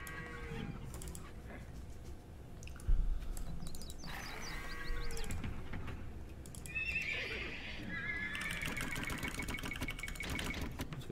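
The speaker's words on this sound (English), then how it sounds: "So let me take all the horses." Horses neigh and whinny in the Age of Empires 2 video game, with clip-clop hooves, clucking chickens and a crowing rooster in a busy, continuous game soundscape.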